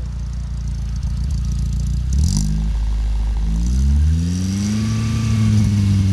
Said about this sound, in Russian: водителя попросили выжать педаль газа до 3000 оборотов